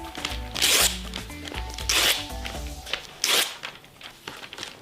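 Pages being ripped out of a magazine for a collage, with three loud, sharp tearing bursts spaced about a second apart, up close, over quiet background music.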